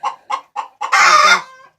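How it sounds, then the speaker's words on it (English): A broody hen clucks in a series of short, evenly spaced calls, then breaks into a longer, louder drawn-out squawk at close range. "that box right in front of Buttercup, that's one of my broody hen"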